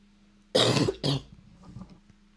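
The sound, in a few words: cough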